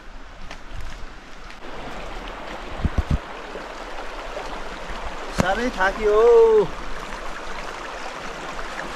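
A babbling mountain stream runs steadily in the background as a hiker on a trail speaks a few words and lets out short vocal sounds over the continuous water.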